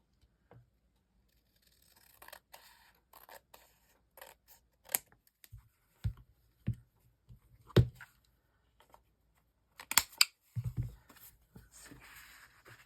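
Scissors snipping paper tags for craft pages, quiet sharp cuts in irregular clusters with pauses between, close up in an otherwise still room.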